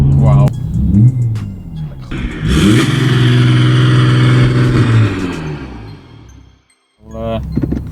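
A straight-piped 300 bhp Audi A5 TDi diesel accelerates hard, its loud exhaust note rising through the revs with a gear change partway, then dropping off briefly; people talk and react inside the car.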